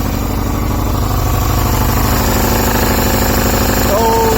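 A 1998 Yamaha Virago 125 motorcycle runs on full choke just after starting, its small engine idling close and loud with an even, rapid pulsing thump that holds steady throughout.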